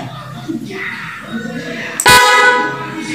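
A motorcycle snail horn, rewired from a 22-tone horn, gives one loud, sharp, close blast of about a second near the end, after a stretch of background voices and noise.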